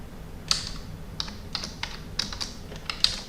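Keys tapped on a computer keyboard while entering R code, heard as a handful of distinct, unevenly spaced clicks at close range over a soft steady background hum, with no talking.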